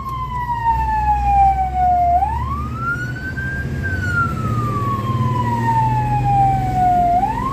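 Fire engine siren from a truck responding to a grass fire in traffic: a loud, close wail that sweeps up and down in long, slow cycles over a low road and engine rumble.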